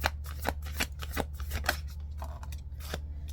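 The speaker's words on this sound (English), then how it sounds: "Let's get 3 oracle cards for you." Oracle cards shuffled by hand, producing a rapid series of close, crisp riffling and slapping bursts in an uneven rhythm over a low background hum.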